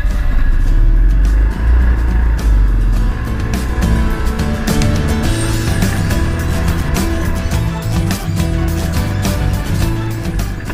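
An ATV engine rumbles steadily while being driven along a forest trail, a loud, continuous low drone with slight shifts in pitch as the throttle changes.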